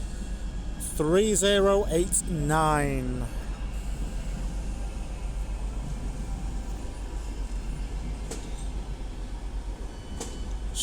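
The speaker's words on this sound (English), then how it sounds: "coming in over here is another Metrolink tram from Victoria" A Metrolink tram from Victoria pulls into the station at Manchester Airport, its low steady rumble and rail noise running throughout, with a voice talking briefly near the start.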